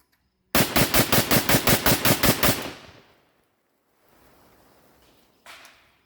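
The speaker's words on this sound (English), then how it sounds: "Kind of useless as a pistol, so we're going to bump fire." A Zastava M92 short-barreled rifle is bump fired, letting off a rapid burst of about a dozen loud, close shots over two seconds. A fading echo follows, then a brief faint rustle and one short noise.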